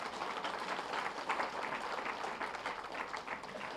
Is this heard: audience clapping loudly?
yes